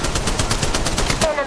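Rapid automatic gunfire from the mobile shooter Apex Legends Mobile, a tight stream of evenly spaced shots rattling loudly and close for over a second before cutting off.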